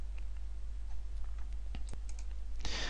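A computer mouse clicks a few times, small sharp taps spaced unevenly over a faint steady hum, close and quiet.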